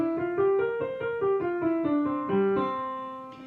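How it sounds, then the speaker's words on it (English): A lively fiddle melody of quick, distinct bowed notes stepping up and down, played alone at a moderate volume. "the fiddle tune goes like this."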